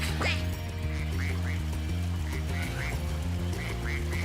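Fake duck quacks from the video game Spyro: Ripto's Rage repeat in a steady series of short calls over loud, looping game music.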